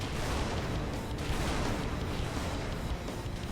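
Artillery explosions in the tank combat game Total Tank Simulator, a dense continuous roar of overlapping booms and rumble filling the whole clip, loud and without a break.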